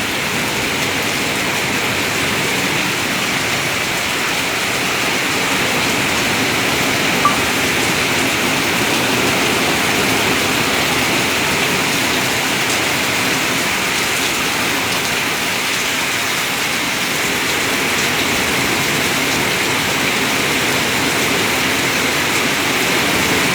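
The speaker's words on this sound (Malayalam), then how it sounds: "നിങ്ങൾ കണ്ടുകൊണ്ടിരിക്കുന്നത് കാഞ്ഞിരപ്പള്ളി ആനക്കല്ലിൽ പെയ്യുന്ന മഴയുടെ, ശക്തമായ മഴയുടെ ദൃശ്യങ്ങളാണ്." A strong downpour falls at Anakkallu in Kanjirappally, Kerala, a continuous, loud wash of rain drumming on nearby surfaces, even and sustained with only a faint low rumble underneath.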